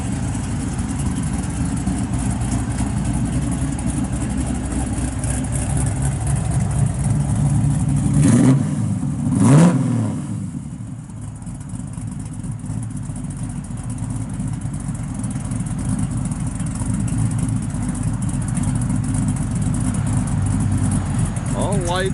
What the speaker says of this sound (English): Good sounding car. The MagnaFlow exhaust on it just sneaks up on people, but it's got nice sound camshaft in it.